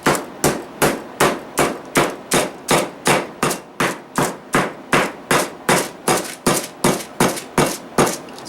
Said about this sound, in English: Beat that shit until it's see-through.